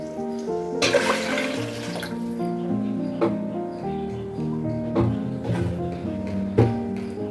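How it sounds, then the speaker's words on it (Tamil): Water pours in a steady splashing stream into a cooking pan for about a second, then gentle liquid sounds continue over a sustained background hum. "இப்போ வந்து வாட்டர் சேர்த்துக்கலாம்."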